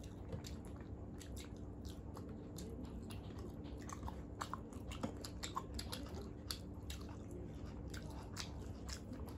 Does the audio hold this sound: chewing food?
yes